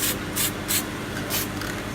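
Short hissing bursts from an aerosol spray paint can, about four quick sprays spaced unevenly over a faint background hum.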